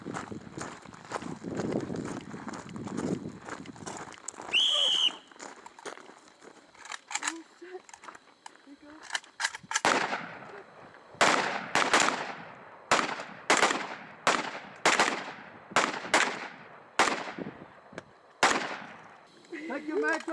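Rifle fire at a shooting range in South Africa, set to semi-automatic after a whistle: a series of sharp, evenly spaced cracks in the second half, following quieter shuffling and a short whistle-like tone.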